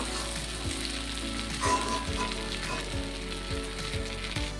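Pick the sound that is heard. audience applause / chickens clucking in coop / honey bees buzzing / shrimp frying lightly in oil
shrimp frying lightly in oil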